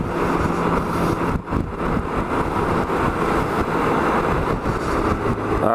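Suzuki Burgman 650 motor scooter engine droning steadily at highway speed on a bridge, with continuous wind rush and road noise throughout, loud and unbroken apart from a brief dip.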